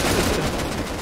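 A single dense volley of massed gunfire in Rust, loud and close, ringing out briefly with no talking.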